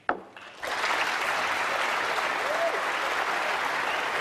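Snooker crowd at the 2018 Welsh Open final applauding a century break, dense even clapping that swells in after a sharp knock and holds steady.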